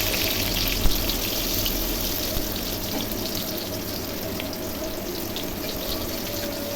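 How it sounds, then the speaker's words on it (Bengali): Boiled potato pieces fry in a pan with jackfruit curry, giving a steady, close hissing sizzle throughout, with a faint clink or two from stirring. "এখন একটু সিদ্ধ করে রাখা আলুর টুকরোগুলো এর মধ্যে দিয়ে একটু ভালো করে নেড়ে চেড়ে ভেজে নিচ্ছি।"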